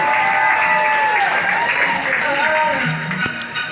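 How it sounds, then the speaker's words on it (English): An audience on a Carnival cruise applauds Ron, producing dense, steady clapping from a crowd indoors. The clapping is loud and close and lasts the whole moment, with a few voices and some music mixed in underneath. "Give Ron a big round of applause"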